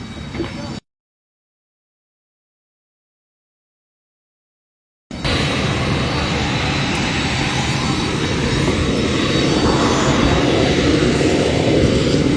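An airplane engine drones steadily from close by, after a brief opening of sound and a few seconds of silence, then a constant loud roar that continues to the end.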